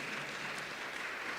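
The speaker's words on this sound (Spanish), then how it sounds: "La iglesia les recibe con un cariñoso aplauso." A church congregation gathered for a family congress claps in warm, sustained applause, a dense steady patter of many hands filling the room at moderate volume with no voices over it.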